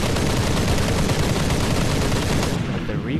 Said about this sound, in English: Now when you actually shoot the guns